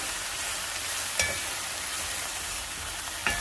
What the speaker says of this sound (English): You want to make sure that it's simmering.